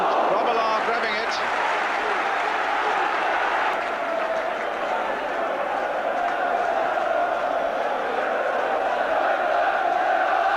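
Large football stadium crowd roaring and cheering in a continuous, dense wash of voices and applause, loud and sustained, with a match commentator talking over it.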